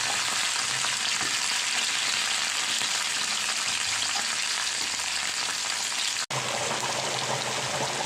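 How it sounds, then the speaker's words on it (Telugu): Green chillies, onions and curry leaves fry in oil in a kadai, giving a loud, continuous sizzle that holds steady throughout with one brief break partway, no voices. "బాండీలో కట్ చేసుకున్న పచ్చిమిర్చి, ఆనియన్స్, కరివేపాకు వేసి బాగా వేయించుకోవాలి."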